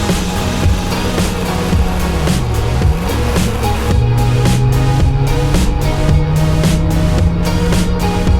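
A Volkswagen Polo G40 engine with its G-Lader supercharger runs loud and close, a steady rich drone with shifting tones as the revs rise and fall, continuing without pause and with no talk.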